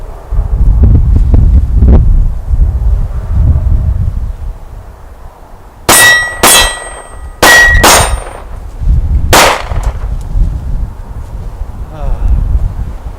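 Pistol double-tap shots ring out in pairs, each followed by a bright metallic clang of steel targets, over gusty wind noise outdoors.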